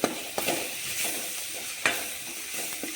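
A spoon stirs gram flour batter with ground green chilli and salt for fried bajji snacks, making a few soft, wet scraping sweeps and occasional sharper clinks against the bowl, close and fairly quiet.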